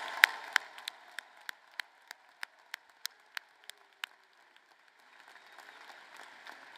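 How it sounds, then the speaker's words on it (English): Sparse, evenly spaced hand claps from a commencement audience ring out over a faint room hum, slowing and fading away toward the end. "Everyone, a round of applause."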